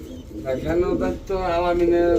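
Soft, low pigeon coos sound close by, mixed with a person talking.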